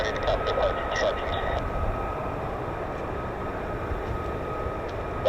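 F-35 stealth fighter jets taxi at an air base as a continuous broad engine roar with a faint steady whine. The sound is distant and even throughout and overlaid by a quiet broadband hiss.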